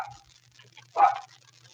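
A dog barks once in the background of a home, a short loud burst standing out over a faint steady hum.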